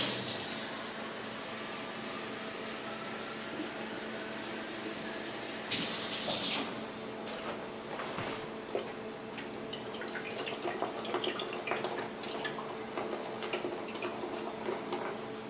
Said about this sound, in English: I'm going to add about a half a can of water.